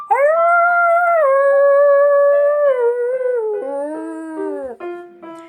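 A long, wavering howl sounds up close and loud, rising and sliding through several pitches before breaking into shorter yelping notes at the end.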